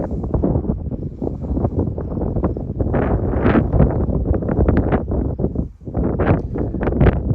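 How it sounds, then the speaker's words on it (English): Heavy wind buffets the microphone continuously at a North Dakota overlook above the Little Missouri River, a loud rumbling roar with gusting surges and no speech. "But it's also incredibly windy."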